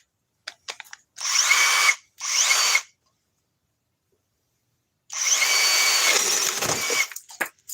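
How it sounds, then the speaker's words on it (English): A power drill running at its second speed setting whirs in three bursts, two short ones and then a longer sustained run that trails off with small clicks, loud and close with silent gaps between. "Let's try speed 2. This drill has so many modes on it."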